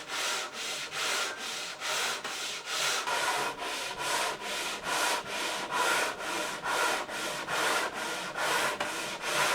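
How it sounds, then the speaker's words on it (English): Hand sanding of a wooden tabletop from a Georgian folding tea table, worked along the grain: a steady, close rhythm of about twenty even rasping strokes, alone and without talk. "I hand sanded it to even it out, taking care to always sand along the grain"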